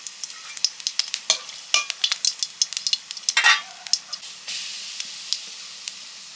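Whole cumin and dried chillies hitting hot frying oil for a potato curry, a burst of close sizzling and spattering crackles with stirring, fading into a softer hiss.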